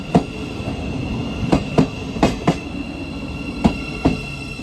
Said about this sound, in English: The Great Northern Class 717.